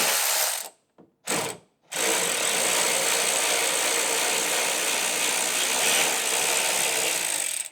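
Ratcheting and mechanical clanks from a wrench loosening the rear gas tank strap on a second-generation Toyota Sequoia (non-TRD), a few short clicks and then a steady, close whirring tool run with no talk.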